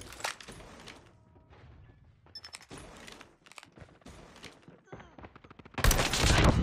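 PPSh-41 submachine gun fire in a ranked match of a first-person shooter video game, with bursts of rapid shots and clatter across the clip, swelling into a loud sustained barrage at the end.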